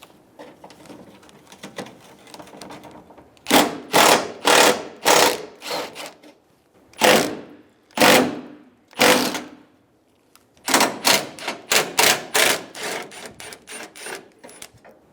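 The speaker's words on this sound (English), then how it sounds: "Using a 10mm socket, remove the 2 nuts on the side of the bracket." Ratchet on a 10mm socket loosening bracket nuts on a 2005-2015 Toyota Tacoma bumper: bursts of quick ratcheting clicks in short runs separated by pauses, close and fairly loud.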